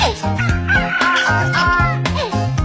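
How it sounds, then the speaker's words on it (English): A rooster crows loudly and close up in a drawn-out cock-a-doodle-doo, with clucking fowl sounds layered over a steady, rhythmic low backing. "R for rooster."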